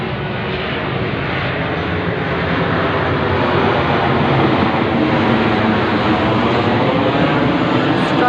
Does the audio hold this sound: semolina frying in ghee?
no